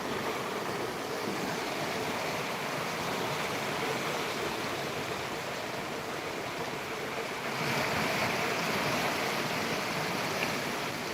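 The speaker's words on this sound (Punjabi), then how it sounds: "ਦਰਿਆ ਸਤਲੁਜ ਦਾ ਜੋ ਜਲ ਪੱਧਰ ਸੀ 5 ਫੁੱਟ ਤੱਕ ਘਟ ਚੁੱਕਿਆ ਪਰ ਪਾਣੀ ਦੀ ਸਪੀਡ ਅਜੇ ਵੀ ਤੇਜ਼ ਹੈ" The fast-flowing Sutlej River roars steadily and loudly, a broad unbroken wash of sound that swells slightly partway through, with no voices.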